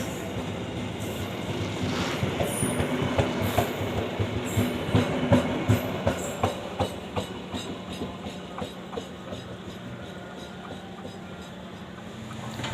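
An Indonesian Mutiara Timur passenger train rumbles along the rails with a steady rhythmic clickety-clack of wheels over joints, loud and close, gradually easing toward the end.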